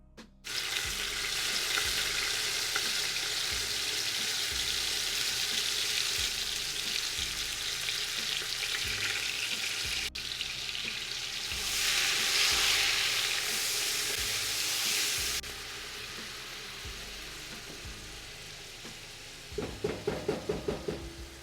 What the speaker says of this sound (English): At this point, we're going to fry these thinly sliced onions.